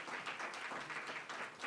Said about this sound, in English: Can you give yourself a round of applause for that?